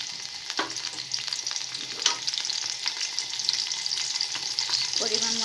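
Garlic-onion paste hits hot oil with fried cumin and dried red chillies for a sweet pumpkin dish, crackling in a steady, close sizzle with occasional stirring scrapes and no talk.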